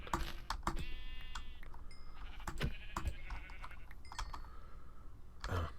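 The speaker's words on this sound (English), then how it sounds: "I guess while we're messing here with these sheep, I need white sheep" Sheep in a video game give several wavering, nasal bleats scattered among sharp keyboard typing clicks, all fairly quiet and close, with no talking.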